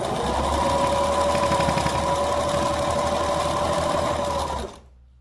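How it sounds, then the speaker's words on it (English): A sewing machine stitches fabric for a homemade mask in one continuous, even, close whirring run that stops abruptly near the end, with no talk. "I'm just going to stitch this down."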